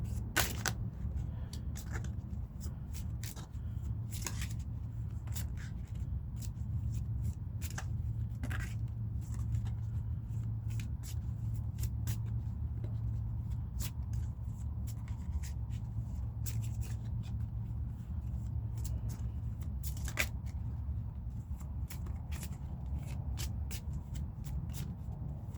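Soft, continuous tarot card shuffling with scattered light clicks and taps, quiet and close over a low steady hum.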